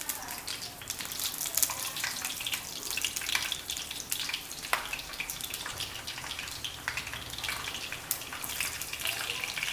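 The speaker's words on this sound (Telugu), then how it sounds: "ఈ ఆయిల్ కొంచెం హీట్ ఎక్కిన తర్వాత ఈ పచ్చిమిర్చి ఉన్నాయి కదా, ఇవి ఇలా తుంచి వేసుకోండి" Torn green chillies hitting hot oil for a tomato chutney, a steady faint crackling hiss with scattered pops throughout and no voices.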